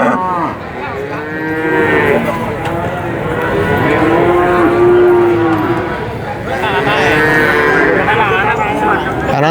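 Cattle low repeatedly at a busy livestock market in Purwantoro, several long loud moos, some near and some overlapping, over crowd murmur and voices talking throughout.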